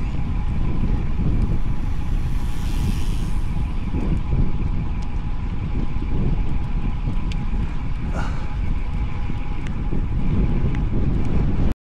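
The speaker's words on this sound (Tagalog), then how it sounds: "Ayan na oh, lakas ng headwind." Strong headwind roaring across the microphone during a long bicycle ride, a loud, steady buffeting rush of wind with no talk.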